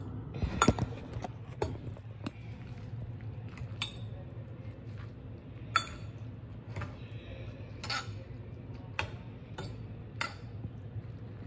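Utensil scraping and clinking in a pot while Shin spicy noodles are stirred, with scattered sharp metallic taps over a low steady background hum, fairly close.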